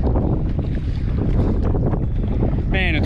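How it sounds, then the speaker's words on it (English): Strong wind on flat open water at Thermalito Afterbay, heard from a kayak, buffets the microphone in continuous gusty roars, with a brief creaking or whistling sound near the end. "Man, it's windy."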